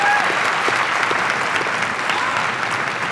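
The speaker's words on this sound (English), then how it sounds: "Can we have a round of applause for all of the music teachers that are here tonight?" Sustained applause from a school orchestra festival audience in Elmhurst School District 205, a dense, steady clapping from a large crowd throughout.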